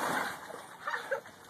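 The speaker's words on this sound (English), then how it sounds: "Andy, you're about to get splashed." Water splashing and sloshing in a small backyard kiddie pool, a few quick irregular splashes at close range.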